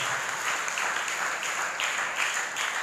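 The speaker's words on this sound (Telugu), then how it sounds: "గట్టిగా చప్పట్లు కొడతాం." Applause from a church congregation at a Corpus Christi feast service: a steady, dense wash of many hands clapping, sustained and even at moderate loudness throughout.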